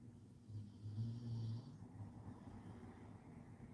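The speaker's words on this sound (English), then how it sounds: "Do you hear her snoring?" A dog snores softly nearby, slow low rumbling breaths rising and falling in a quiet room.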